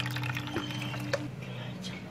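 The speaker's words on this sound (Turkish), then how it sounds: "çeşmede soğuk suyun altında bu şekilde yıkadıktan sonra" Running cold tap water splashing as hengel (Turkish dough pieces) are washed under a faucet, a steady close trickle with brief drips, without talk.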